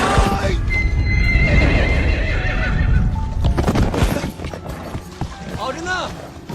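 A horse in an open field neighs loudly and whinnies while its hooves clip-clop steadily, close and continuous, with a voice speaking over the animal sounds.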